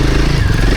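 An off-road motorcycle is given a little throttle while climbing a rough, rocky trail in Spain, its engine a steady, close, rumbling drone that holds for the whole moment without breaks.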